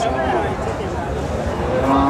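A cow moos at a busy rural cattle market in Bangladesh where cows are sold for farming, a steady low call rising near the end over a dense murmur of crowd noise and voices.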